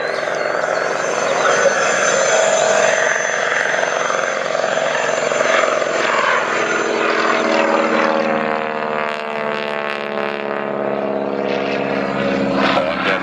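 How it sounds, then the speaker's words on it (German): A 1943 Boeing Stearman biplane's nine-cylinder Pratt & Whitney R985 radial engine of 450 hp drones steadily throughout, a loud rough rumble with a rising and falling harmonic whine, no voices. "Sound kommt von einem 9-Zylinder Startmotor Whitney R985 mit 450 PS."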